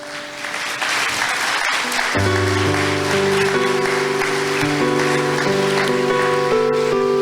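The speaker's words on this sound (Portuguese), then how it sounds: "Você pode aplaudir o Senhor por isso?" A church congregation breaks into strong, dense applause that carries throughout, while sustained keyboard or organ notes enter underneath and keep playing.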